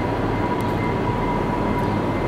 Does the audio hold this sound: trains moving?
yes